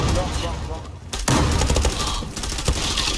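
Rapid, dense gunfire in a shooter video game clan war, with loud bursts and a sharp blast, while players talk over it.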